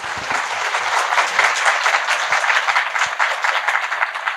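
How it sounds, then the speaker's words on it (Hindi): Audience applause at a spiritual gathering, a loud crowd of hands clapping vigorously in a steady, dense patter that carries on without a break. "एक बार जोरदार ताली योगी जी के लिए।"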